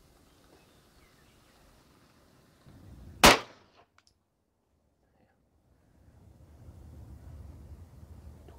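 A single sharp, loud gunshot cracks out at a shooting range during testing of Hornady Critical Duty and Winchester Defense bullets, followed by a brief echo, then quiet and low ambient rumble.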